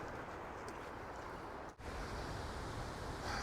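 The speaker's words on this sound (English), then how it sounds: "we've made it out here to Lower Copeland Falls" Steady, dense rushing roar of Lower Copeland Falls in Rocky Mountain National Park, heard close and loud as a constant broadband wash of falling water with a momentary dip midway.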